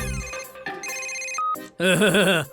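An electronic phone ringtone plays loudly, a melodic chiming pattern followed by a bright warbling ring.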